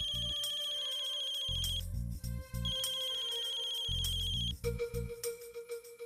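A melodic phone ringtone plays loud and clear, a repeating electronic tune that loops twice before stopping.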